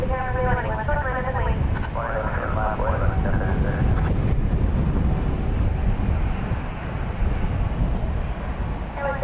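An airplane roars at DFW Airport at night, a loud sustained jet rumble that swells and holds while people talk nearby.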